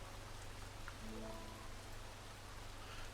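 Rain falls steadily in a VRChat virtual world, a faint, even hiss with a low hum underneath and a few brief tonal blips, continuous throughout.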